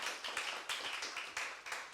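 A church congregation claps to welcome visitors, a dense, fairly faint run of applause with rhythmic bursts over two seconds.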